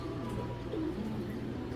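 Racing pigeons, cross-bred birds kept for racing, coo softly in low, rolling murmurs that run steadily beneath a constant background hum.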